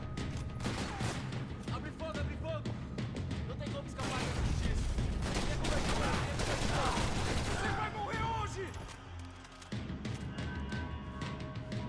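Heavy gunfire in the action shooter Max Payne 3: dense bursts of rapid shots and automatic fire crackle almost without pause, growing to a thick peak before thinning into scattered shots, with a voice talking underneath.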